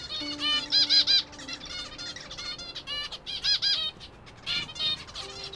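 Captive finches in a breeding room chirp in repeated bright bursts of high calls, with soft wing flutters between them, close and fairly clear.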